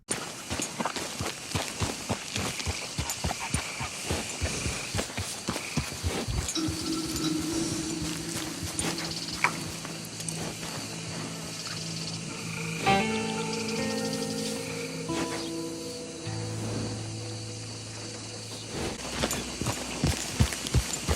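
A Gold Dapple Turk horse in a Western video game walks and trots, its hooves giving repeated clip-clop footfalls throughout, joined midway by sustained tonal music or ambient tones.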